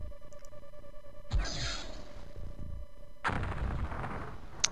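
Gunshots in the video game X-COM UFO Defense, two sharp blasts each followed by a decaying rumble over a faint electronic background hum.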